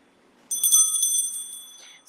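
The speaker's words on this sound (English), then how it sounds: "Can I ring a bell?" A small bell rings once, brightly and sharply, after a quiet moment, and its clear metallic tone rings on and fades slowly.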